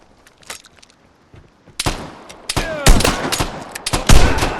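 Sharp bursts of gunfire in the video game Vigor crack in irregular clusters, starting sparse and faint, then growing loud and rapid like automatic fire.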